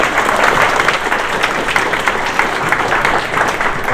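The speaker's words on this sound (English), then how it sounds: "So a round of applause, please." Audience applause at a junior hackathon show-and-tell, a steady, dense wash of clapping from a large crowd that holds evenly loud for the whole stretch.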